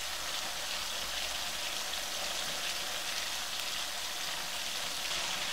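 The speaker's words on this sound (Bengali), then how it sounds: "একটা একটা করে মশলা দেব আর এটাকে ভালো করে কষাবো।" Spices and masala sizzling and frying in hot oil for a Bangladeshi chicken roast, a steady close hiss that stays constant throughout with no talking.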